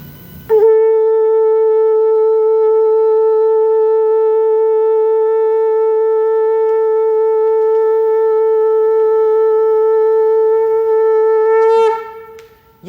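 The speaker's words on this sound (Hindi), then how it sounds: "मैं एक बार आपको शंख भी बजा के दिखा देता हूं ऐसे।" A conch shell blown in a home, one long sustained tonal blast with rich harmonics that holds steady for about eleven seconds before breaking off, loud and close, with no speech.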